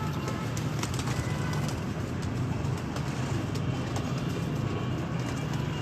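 A pigeon coos on a rooftop over a steady outdoor rumble of traffic, its soft low calls repeating in a gentle rhythm close by.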